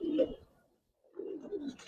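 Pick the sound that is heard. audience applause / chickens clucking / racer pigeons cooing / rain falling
racer pigeons cooing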